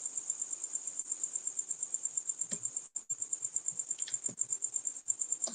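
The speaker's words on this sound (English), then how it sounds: "Nothing but crickets." Crickets chirp in a steady, rapid high-pitched pulse throughout, with a few soft knocks and rustles underneath and no voices.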